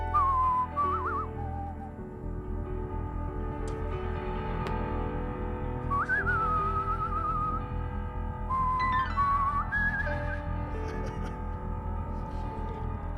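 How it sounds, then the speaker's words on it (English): Someone whistles the spaghetti western melody from A Fistful of Dollars in a few short phrases over steady ukulele or musical backing, the whistle close but fairly soft and broken by gaps. "I can get the whistle."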